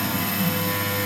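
A CNC machine runs a 5-flute end mill at 6,000 RPM through Nitro-V stainless steel sheet, giving a continuous, even high-pitched machining whine with a steady hum beneath it and no pauses.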